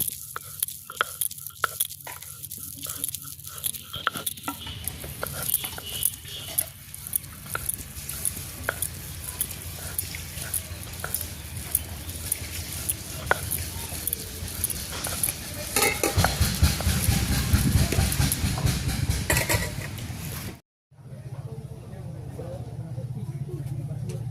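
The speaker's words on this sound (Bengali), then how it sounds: "আমরা এই যে কপির পাতা যে বাটছি" Beet leaves are ground by hand into a paste in a village kitchen, heard as repeated rhythmic scraping and crunching strokes under ongoing talk, ending in a brief pause.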